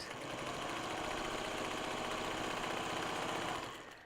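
A sewing machine runs steadily, stitching a June Tailor quilt-as-you-go project bag, in one continuous close motor buzz that winds down at the end, with no talking.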